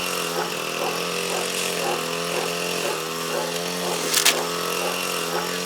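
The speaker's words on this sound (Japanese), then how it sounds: "草刈り機の音" A grass trimmer runs in the countryside, its engine giving a loud, steady buzzing whine that holds throughout, with a short harsher burst near the end.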